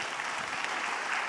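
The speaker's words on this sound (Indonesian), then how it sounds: "Tepuk tangan buat Bang Andi" A talk show studio audience claps in a steady, dense burst of applause, moderately loud and sustained, with a faint murmur of voices underneath.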